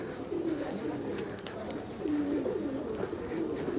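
Soft pigeon coos repeat a few times over a steady outdoor background, low and murmuring, not very loud, at Swayambhunath Buddhist stupa in Kathmandu during a puja.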